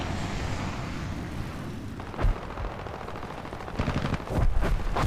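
Tank gunfire in the War Thunder video game: a few muffled cannon bursts and rattling shots over a constant rumbling battle backdrop, heavier near the end, with no voices.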